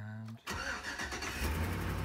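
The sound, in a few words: LS V8 truck engine starting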